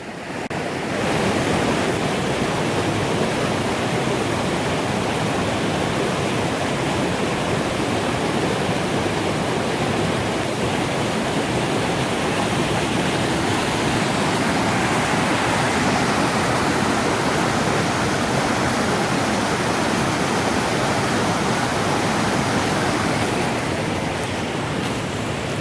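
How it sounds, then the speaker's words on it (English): A swollen creek in a Virginia national forest rushes continuously, a dense, steady roar of churning water heard up close with no other sounds over it. "creek is very swollen."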